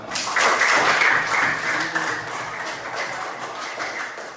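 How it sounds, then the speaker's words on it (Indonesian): Students in a classroom applaud after a group report during a lesson on computational thinking, giving a short burst of dense clapping that stays steady and moderately loud throughout. "berikan tepuk tangan dong"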